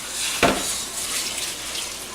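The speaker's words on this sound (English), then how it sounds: "we're going to rinse our rice." Rice is rinsed under running water, a steady close hiss of flowing liquid with a brief splash near the start.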